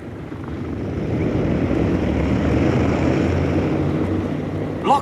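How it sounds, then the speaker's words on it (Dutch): Engine number 3 of a propeller airliner starts up at Schiphol airport, producing a loud, steady, broad rumbling roar that holds throughout with wind-like noise. "Start motor 3."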